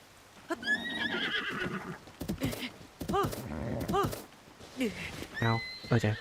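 Several horse whinnies and neighs from the video game Tears of the Kingdom, rising and falling calls spread across the few seconds, fairly close, with some game noise and a voice in the background.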